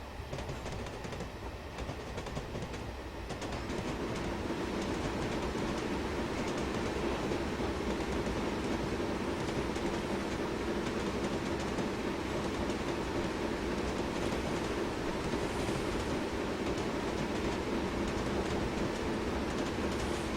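A long freight train without a brake van rolls past in the Train Simulator 2015 game on the Western Lines of Scotland, a steady loud clickety-clack rumble of wagons sustained throughout with no talk.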